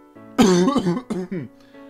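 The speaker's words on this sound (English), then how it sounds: "Yeah, there's my strange cough again." A single hoarse, rasping cough, loud and close, breaks into several rough bursts before trailing off.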